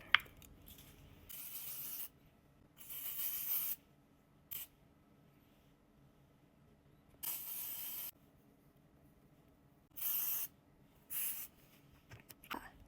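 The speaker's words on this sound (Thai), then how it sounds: "ฉีดสเปรย์เสร็จเป็นที่เรียบร้อยแล้วนะคะ" Hairspray hisses from a can onto a French twist hairstyle for a flight attendant, in six separate bursts of different lengths with quiet pauses between them.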